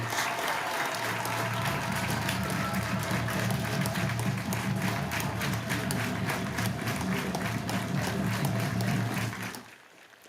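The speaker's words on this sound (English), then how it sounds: "I want to hear this crowd applaud as loud as you can applaud for these ladies, please." A crowd at a high school football game in a stadium applauds steadily for about nine seconds, a dense, even wash of clapping that fades out abruptly at the end.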